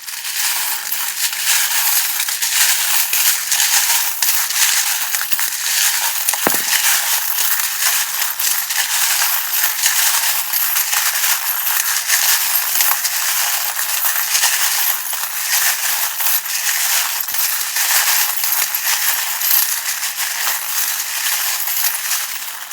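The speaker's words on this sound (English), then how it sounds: "if you don't like the sound of the charms, probably best to turn down your volume" Small metal charms shuffle and clink continuously, a dense jingling rattle that goes on without pause, close and fairly loud.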